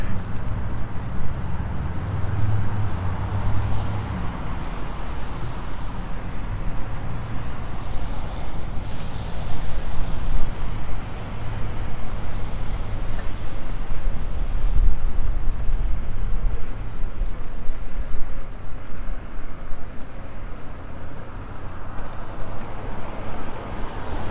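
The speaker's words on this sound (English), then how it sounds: "The rain intensified a little bit there." Rain falls on a downtown street in Regina during summer, a steady wash of noise under a low rumble of passing traffic, with no voices heard.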